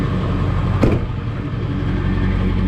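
A 2002 Ford F250 with a 7.3L diesel engine idles nearby, a steady low rumble from its exhaust, with a brief sharp knock or thump partway through.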